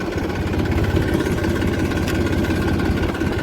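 A tractor engine towing a trolley on a farm, put into first gear, runs at a steady, continuous low rumble close by, with no talking.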